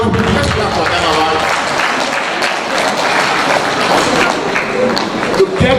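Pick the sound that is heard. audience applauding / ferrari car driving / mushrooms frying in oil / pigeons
audience applauding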